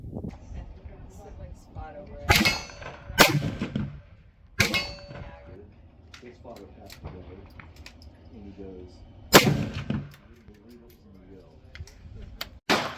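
7mm-08 rifle shots at an outdoor range, several sharp loud reports spaced irregularly over a background of people talking, wind and small clanks.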